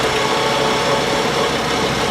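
A Crosley car engine runs steadily in second gear, a continuous broadband mechanical roar with no breaks, loud and close.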